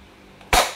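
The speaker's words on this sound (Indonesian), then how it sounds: "Kita coba dulu tembakan ya." A single sharp pop of a toy gun cracks out after a quiet moment, loud and close, with a brief fading tail.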